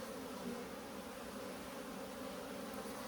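Steady, low buzzing of many bees droning continuously around a hive in an Alaskan apiary, a dense hum with no pauses and no voices.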